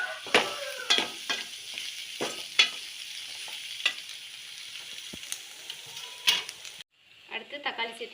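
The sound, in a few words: sautéing ginger-garlic paste with onions and mint in a pan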